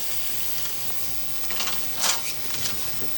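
Food sizzling in a pan while being stirred with a spoon, a steady low frying hiss with brief louder scraping bursts near the end.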